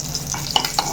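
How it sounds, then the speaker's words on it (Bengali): A short burst of egg frying in a pan for homemade biryani, with a soft sizzle broken by two quick utensil clinks. "ডিম ভাজছে।"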